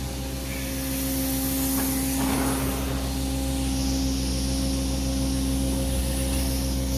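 Carpet-cleaning vacuum dry-vacuuming a dirty carpet, a loud steady whine and airy hiss that runs continuously throughout, close by and without any talk.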